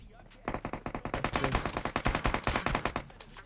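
Rapid automatic gunfire from a UMP in PUBG Mobile, fired from a nearby shipping container: a dense, loud burst of evenly spaced shots running about three seconds before tapering off.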